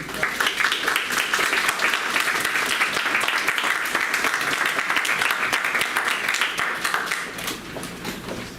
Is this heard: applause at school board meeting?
yes